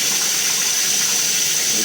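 Water gushing steadily from an underground pipe line in a driveway, a loud continuous hiss that holds without pause.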